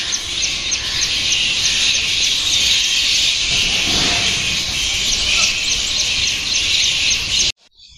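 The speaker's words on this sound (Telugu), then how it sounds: "అవన్నీ బ్యాట్స్. నేను ఫస్ట్ ఏంటి ఇన్ని పక్షులు ఇంత డిఫరెంట్ గా ఉన్నాయి సౌండ్" A dense chorus of high, rapid chirping calls from many bats, steady and loud and unbroken, ending abruptly in silence.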